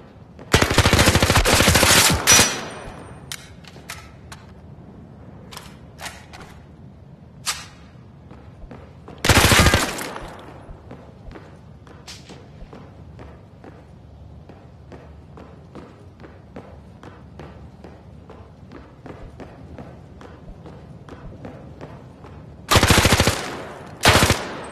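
Gunfire in the VR shooter game Zero Caliber Reloaded, loud bursts of automatic fire at the start, middle and end, with many scattered single shots and thuds in between.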